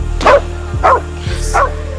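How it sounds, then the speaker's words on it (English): Small dog barks a warning three times in evenly spaced, sharp barks, close and loud over a low rumbling background. "The dog is trying to warn us!"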